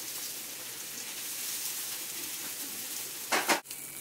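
Onions frying in a pan for stuffed shells, a steady close sizzle running throughout with no voices, broken near the end by a brief louder burst of crackle.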